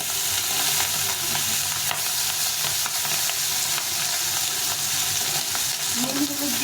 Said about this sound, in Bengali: মাছটা এক পাশে ভাজা হয়ে গেছে, এভাবে উল্টে পাল্টে ভেজে নিতে হবে।